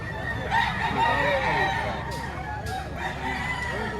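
Roosters crow repeatedly and hens cluck at a busy poultry market in Lipa, Batangas, several birds calling over each other amid constant crowd chatter.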